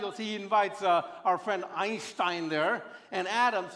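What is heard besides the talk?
No everyday noises stand out.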